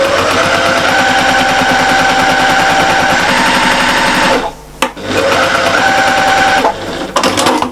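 A sewing machine runs fast and steadily, stitching a quarter-inch seam on a patchwork and appliqué cushion at a longer stitch length, with a brief pause near the end before it whirs on again, close and loud.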